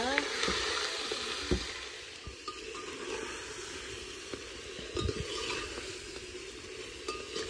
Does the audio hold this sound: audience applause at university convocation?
no